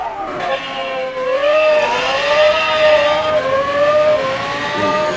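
A twin-turbo, 1000 horsepower built Lamborghini Gallardo in the Roblox game Driving Empire accelerates hard, its engine tone climbing steadily and loudly through the gears with no break.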